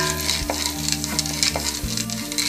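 Urad dal frying in a pan for tempering, a dense continuous sizzle with a low hum beneath and soft rhythmic scrapes of a spoon stirring, close and steady.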